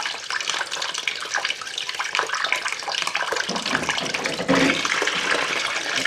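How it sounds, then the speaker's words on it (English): Water gushes and splashes steadily as it drains out of an Indesit washing machine with fault code F05, a loud continuous rushing pour close by. "So much water's in the machine."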